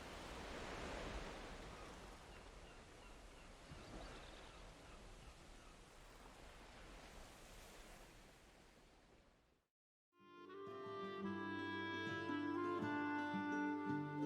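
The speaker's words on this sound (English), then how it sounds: "An ocean is definitely a welcome sight." Continuous rushing surf of ocean waves breaking along a shoreline in the game Valheim, a broad steady wash that cuts out briefly before other sounds take over.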